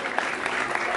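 Steady crowd applause fills a rap battle in the Batalha da Leste freestyle competition, a dense, continuous wash of many hands clapping close by, with a few sharper claps standing out.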